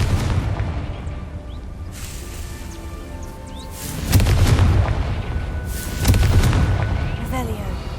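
A Confringo fire spell in Hogwarts Legacy lands with two deep, booming explosions a couple of seconds apart over a steady rumbling game ambience.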